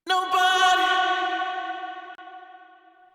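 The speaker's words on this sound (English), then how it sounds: "you'll hear it the way the reverb seems to attach to the word no" A single sung or spoken vocal word treated with a reverb throw, its tail swelling and hanging on as a long, smooth echoing wash that fades gradually over a few seconds with no other sound.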